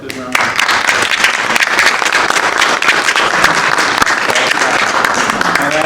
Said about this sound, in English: So let's give Bill a good round of applause.